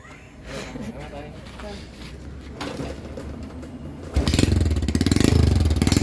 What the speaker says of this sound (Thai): ลองฟังเสียงท่อไหม ฟังเสียงท่อหน่อยครับ สตาร์ทดิหนึ่งสตง